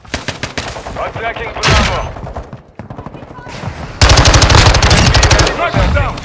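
Rapid automatic gunfire bursts in a Call of Duty: Modern Warfare II Control match, loud and close, with sustained rattling volleys under spoken voice callouts.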